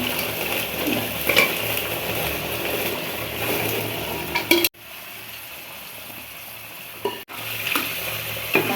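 Kappa biryani, tapioca cooked with bones, is stirred in a pot: continuous close scraping and wet churning over a frying sizzle, with a quieter stretch in the middle before the stirring picks up again.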